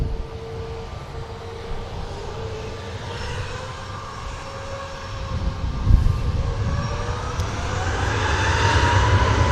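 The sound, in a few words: Ryanair jet aircraft departing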